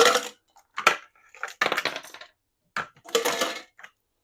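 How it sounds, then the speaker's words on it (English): Ice cubes clatter into a to-go cup for a coffee protein shake, several sharp rattling bursts in quick clusters, close and loud with short silences between. "Throw some ice cubes in there."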